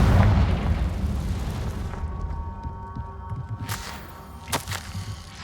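Confringo fire spell from the Hogwarts Legacy game, a loud booming explosion that rumbles and fades over several seconds, followed by a few sharp cracks and pops.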